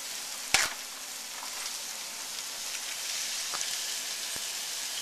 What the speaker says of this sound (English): I've got a bag of thinly sliced sirloin.